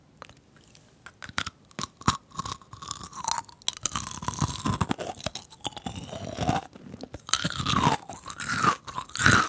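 Crunchy bites and chewing of kohakutou jewel jelly candy and bead ice cream, close and loud, irregular crisp crackles building in intensity over the stretch, with no talk.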